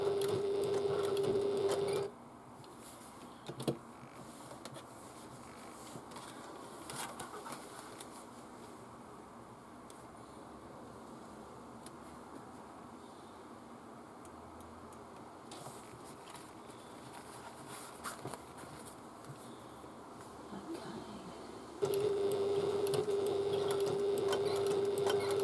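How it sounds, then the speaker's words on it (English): A sewing machine stitches a bag with a steady, close motor whine for a couple of seconds at the start and again near the end, and quieter handling and rustling in between. "and we start stitching"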